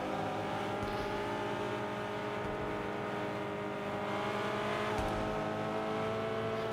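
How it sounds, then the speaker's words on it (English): Race cars circle Spa in the Fortnite racing game, a steady loud engine drone with layered whining tones that shift up and down as gears change, without a pause. "Now you can hear the cars shifting up and down their gears"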